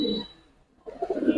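Giribaz pigeons, four pairs, give low murmuring coos close by, with a brief lull midway before the cooing swells again.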